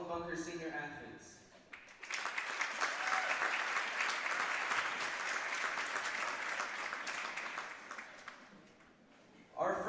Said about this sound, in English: give a round of applause to all of Bunker's senior athletes